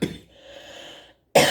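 A single short, sharp cough from a woman leading a daily meditation, heard alone and close, with a brief quieter breathy stretch before it.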